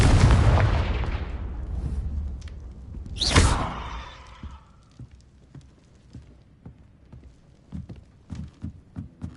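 A Confringo explosive spell in the video game Hogwarts Legacy, cast in a spider-infested cellar, lands as a loud booming blast, then a sharp burst with a fading rumble, followed by quieter scattered thuds and clicks.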